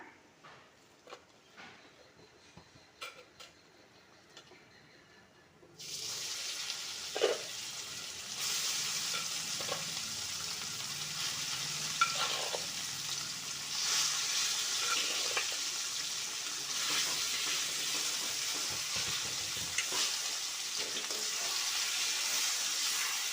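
Loud, steady sizzling of vadagam, dried chillies and sorrel leaves frying in hot oil, starting abruptly after a quiet stretch and continuing throughout with occasional stirring sounds.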